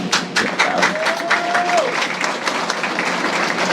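Audience applause at a police graduation ceremony, steady brisk clapping from a crowd in a hall, with a brief tonal whistle-like sound partway through.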